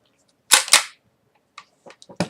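Two sharp metallic clicks close together from the hammer of a Marlin Model 1894 lever-action rifle in .44 Magnum being eased to half-cock, followed after a pause by several lighter clicks and handling taps.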